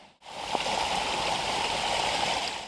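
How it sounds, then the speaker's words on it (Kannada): Water running down a rocky forest path near Harwada falls in Ankola: a steady, fairly close rushing flow that holds evenly throughout, with a brief dip at the very start. "ನೀರು ಬರ್ತಾ ಇರತ್ತೆ ಈ ದಾರಿಯಿಂದ."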